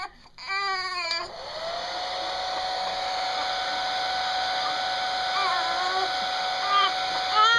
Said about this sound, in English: we're gonna try the hair dryer theory to see if it'll make her stop crying